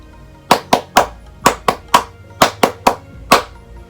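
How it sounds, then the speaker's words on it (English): A group performs Sambonjime, the rhythmic Japanese ceremonial clapping: ten crisp, loud, close claps in three quick sets of three followed by a single final clap. "it's rhythmic clapping that goes like this"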